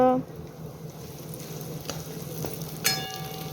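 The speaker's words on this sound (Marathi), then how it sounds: "टोमॅटो कांदा तळून घ्यायचा आणि त्याच्यामध्ये मसाला बारीक करून मिक्स करायचा" Tomato and onion fry in a kadhai for a mutton and chicken masala, a low steady sizzle broken by a few sharp metallic clinks from a utensil against the pan.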